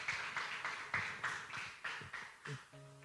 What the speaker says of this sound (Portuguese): As palmas glorificam o nome do Senhor